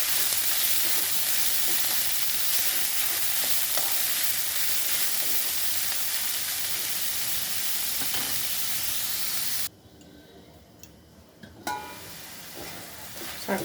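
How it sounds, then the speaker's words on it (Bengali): Radish greens with six slit green chillies frying in a pan and being stirred, giving a loud, continuous close sizzle that suddenly drops away near the end, leaving faint scattered clinks. "শাকটা এখন ভাজা হচ্ছে।"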